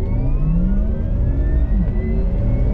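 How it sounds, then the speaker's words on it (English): A Porsche Taycan 4S electric car launching hard under launch control gives a rising electric-motor whine with layered tones sweeping upward over loud road and wind rumble, heard up close inside the cabin. "now left foot on the brake, right foot on the gas. It says launch control activated."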